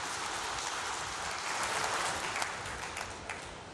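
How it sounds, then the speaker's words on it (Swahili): Audience at an indoor hall event in Tanzania breaks into sustained, dense applause, a steady wash of many hands clapping at moderate distance without a break. "naombeni tujipigie makofi tena mengi sana"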